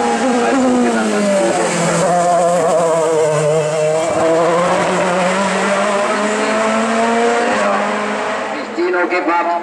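A Group SOSH race car climbs the 2014 Eichenbühl hill climb in Lower Franconia, its engine screaming loud and close as it revs and shifts, with tire squeal through the corners.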